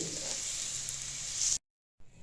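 Date paste sizzling and frying in a hot pan while being stirred for a dessert of sugar-free dry fruit rolls, a steady close hiss that cuts off abruptly, then resumes briefly.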